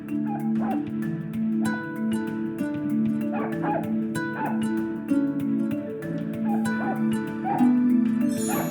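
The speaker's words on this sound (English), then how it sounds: "The barking is coming from behind this door." A Pomeranian barks and yips behind a closed door in a Nancy Drew game, rapid repeated yaps with whimpers, steady and moderately loud over a tonal background hum.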